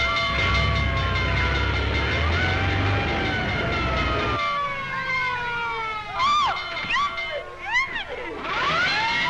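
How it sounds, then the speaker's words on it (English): A fire engine's siren wails in rising and falling sweeps over a deep engine rumble, loud and close, the rumble dropping away midway as the siren continues. "looks as if I finally get my ride on a fire engine"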